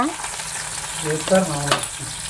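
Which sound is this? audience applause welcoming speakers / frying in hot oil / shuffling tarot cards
frying in hot oil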